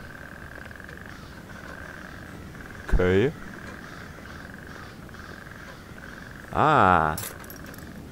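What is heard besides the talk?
frogs croaking in video game Pineview Drive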